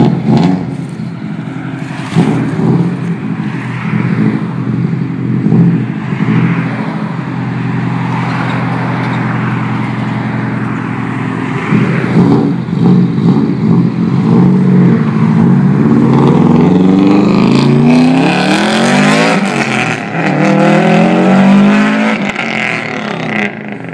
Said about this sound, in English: I'll insert a clip of what a Subaru sounds like just to give you an example of how loud a Subaru can be with a straight pipe.